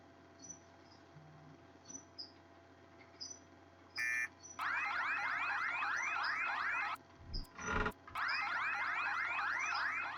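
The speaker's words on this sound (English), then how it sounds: "Let's see if we can get an alarm sound effect." Synthesized alarm sound effect from the Project Spark video game: a repeating warbling siren that whoops up and down steadily, loud and close, with a brief beeping burst before it and a short break in the middle.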